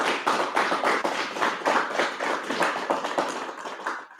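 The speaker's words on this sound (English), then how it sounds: "Give them a clap." A group of people clapping, loud and close, with sharp overlapping hand claps that continue steadily before tapering off at the end.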